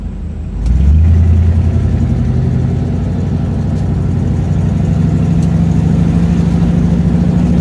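A Buick with a carburetor problem starts and then idles too fast, a loud close engine drone that settles slightly and stays uneven and rough, with no talking.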